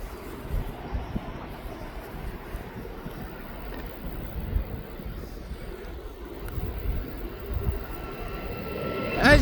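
A Ryanair airliner taxiing toward the runway at East Midlands Airport, its engines giving a steady low rumble mixed with wind buffeting the microphone, swelling louder toward the end.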